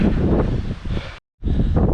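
Strong mountain wind buffeting a GoPro microphone in the Ukrainian Carpathians, a loud, low roaring rumble that cuts out for a brief silent gap, then returns just as heavy.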